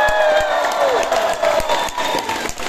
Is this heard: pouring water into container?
no